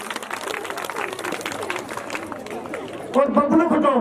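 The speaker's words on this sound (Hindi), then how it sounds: "तो मुगलपुरा तालियां बजाने को भाई" A crowd claps at a temple gathering in Haryana, with scattered applause running under busy chatter and a voice growing louder and closer near the end.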